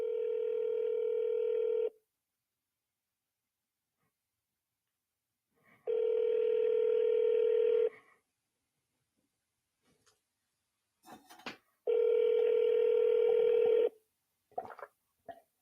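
An auto-dialer's telephone tones sound in three separate two-second bursts spaced a few seconds apart, steady and electronic, with brief clicks and faint voice fragments between them.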